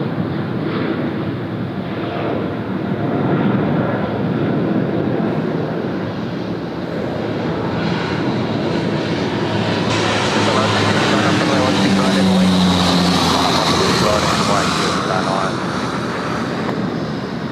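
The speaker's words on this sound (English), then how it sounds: "Lovely long takeoff roll." Airliner on its takeoff roll at Sydney Airport, a broad steady jet roar heard from a distance that swells gradually as the aircraft accelerates, with wind buffeting the microphone and people talking nearby.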